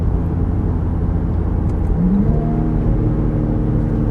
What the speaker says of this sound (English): you can hear a little bit of a crackle and burble